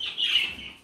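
A show-prepared poultry bird gives a short, close cluck with a bright, slightly rising tone, heard alone for under a second.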